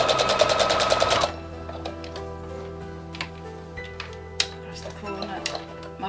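A domestic sewing machine runs a fast, loud burst of stitches near the edge of a fabric coffee cosy for about a second, then stops, leaving faint clicks and handling sounds.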